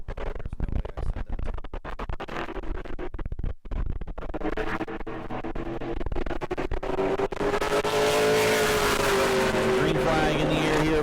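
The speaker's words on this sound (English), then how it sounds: "On the track now in the number 0 Glenn Styers Racing Oswegan Speedway car" A Pro Late Model race car, the number 0 Glenn Styers Racing Oswego Speedway car, runs a qualifying lap at New Smyrna, its engine drone rising and building to a loud sustained roar with a commentator talking over it.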